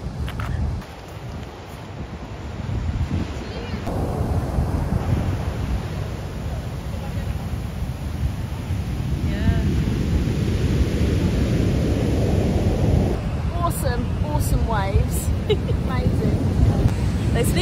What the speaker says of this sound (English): They're called sneaker waves for a reason.